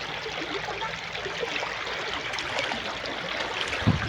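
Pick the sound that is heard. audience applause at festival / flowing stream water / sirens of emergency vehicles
flowing stream water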